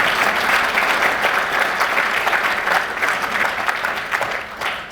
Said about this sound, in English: give yourselves a round of applause for making it here.